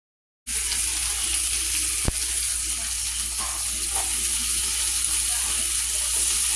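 Spinach with garlic and mushrooms in a pan, giving a loud, steady, close hiss of frying that starts abruptly and continues evenly, with one brief click early on.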